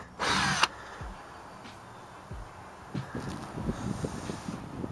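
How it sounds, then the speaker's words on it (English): A power drill bores a pilot hole into a small O'Day sailboat's hull in one brief, loud high-pitched whine, followed by a few faint knocks and handling sounds in quiet outdoor surroundings. "and drill a pilot hole."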